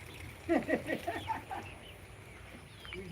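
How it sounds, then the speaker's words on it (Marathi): A backyard flock of about twenty to twenty-five chickens at a Konkan village home clucks in a quick cluster of calls, fairly close, followed by quieter ambient sound. "नाही बोलले तर वीस पंचवीस कोंबडी आहेत"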